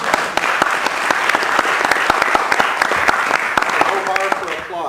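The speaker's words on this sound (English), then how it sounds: "Applause" A crowd claps steadily for several seconds, dense and lively, fading toward the end as a voice begins to speak.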